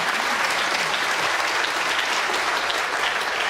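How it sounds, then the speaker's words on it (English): An audience claps steadily and loudly, a dense wash of applause that holds without pause throughout. "Big round of applause for Zavi."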